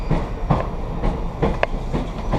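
Amtrak passenger train rolling over rails near a busy junction, with steady rumbling and repeated clickety-clack wheel beats over rail joints, close and continuous.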